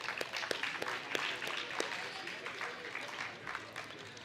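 A crowd at a national science camp prize-giving claps in applause for the transporters, a faint, moderately dense patter of hands running throughout with some speech-like murmur mixed in.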